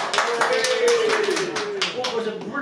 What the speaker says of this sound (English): One person clapped.